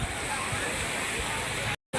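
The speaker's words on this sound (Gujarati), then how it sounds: "જોઈ લો મિત્રો આટલું પાણી હાલ ચાલુ છે ચેપર ગોગે સરસ્વતી નદીમાં" Saraswati river water rushing after the Mukteshwar dam gates were opened, a loud, steady roar filling the whole stretch before a brief cut to silence near the end.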